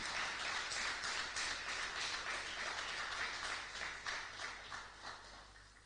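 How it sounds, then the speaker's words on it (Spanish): A church congregation applauding together during a Sunday service, dense sustained clapping that holds steady and then gradually thins out toward the end. "Den un aplauso a Jesucristo."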